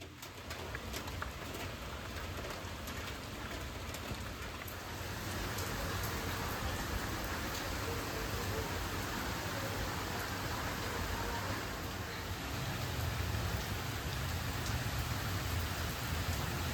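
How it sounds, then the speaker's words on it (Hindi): Heavy rain pours outside in a steady, dense hiss that continues for the whole stretch, with pigeons faintly cooing in the background and no one talking. "बाहर ज़ोरदार बारिश हो रही है"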